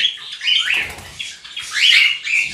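Cockatiels chirp and squawk in a busy breeding room holding butterfly-type and lutino birds, with bright overlapping calls rising and falling throughout and a few wing flutters.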